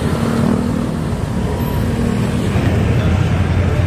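Constant roar of highway traffic, loud and close, with engines and tire noise blending into a dense, unbroken wash.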